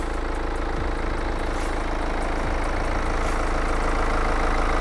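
A BMW X4 (F26) xDrive20d diesel engine idles steadily up close, with an even low rumble and a faint mechanical clatter, no voices.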